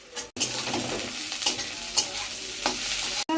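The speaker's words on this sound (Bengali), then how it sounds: "কাঁচা লঙ্কাগুলো এর মধ্যে দিয়ে দেবো" Green chillies frying in a little oil in a wok with cumin seeds and onion, a steady close sizzle with a few louder stirring scrapes and brief dropouts.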